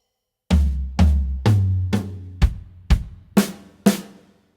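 A drum kit plays a fill moving counterclockwise from the floor tom around the toms, eight sharp hits in steady rhythm, close and loud, each tom ringing briefly before the next.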